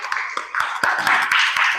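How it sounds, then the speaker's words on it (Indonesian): A class claps for a classmate who has just presented at the front, a short burst of close, fairly loud handclaps with distinct individual claps standing out. "kasih tepuk tangan untuk teman kita yang sudah maju"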